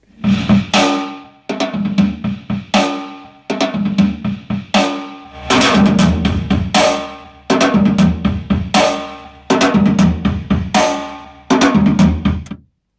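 An acoustic drum kit plays a steady groove with a deep bass drum, snare and cymbals, loud and close, pausing briefly between phrases.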